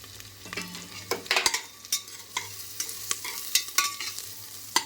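A spoon scrapes and stirs masala rice as asafoetida goes into the hot pan, giving a string of distinct scraping strokes over a soft, continuous sizzle, close by and with nobody talking.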